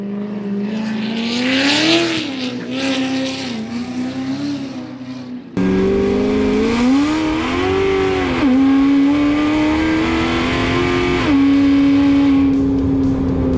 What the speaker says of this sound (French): Après 4 ans de boulot, William a enfin roulé le multiplat.